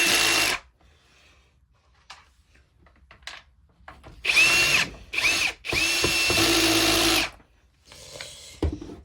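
A power drill drives screws into a Dirt Devil Endura Express vacuum in several loud, close bursts of whirring, with quiet gaps and small clicks of handling between them.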